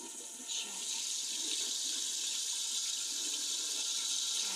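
Running tap water for washing a sting or bite area, a steady, close hiss of water pouring into a sink that starts abruptly and continues evenly, with no speech.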